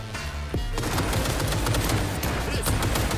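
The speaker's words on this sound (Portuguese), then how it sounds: "O tiro daquele sniper ali é outro" Rapid, loud gunfire crackles almost continuously through the clip after a brief lull, sharp shots from a sniper rifle in Cyberpunk 2077: Phantom Liberty layered in dense bursts.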